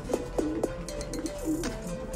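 Pigeons coo softly nearby, a few low throaty calls repeating in a steady rhythm over faint background hum.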